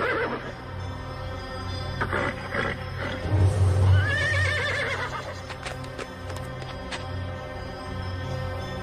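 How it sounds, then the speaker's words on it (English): A horse neighs loudly with a long wavering whinny in the middle, and hooves clop faintly around it. "Sure are a funny looking horse"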